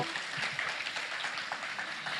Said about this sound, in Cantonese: 喺掌聲嘅加持之下咧